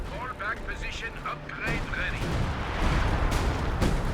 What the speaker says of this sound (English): So we should see some artillery coming down here